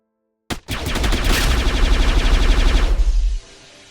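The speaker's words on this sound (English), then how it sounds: "it's overall a reliable minigun in terms of accuracy, and I'd say this is beginner-friendly" A minigun in the video game ROBLOX Coruscant Roleplay fires one loud, continuous burst of rapid shots lasting about three seconds, then cuts off abruptly.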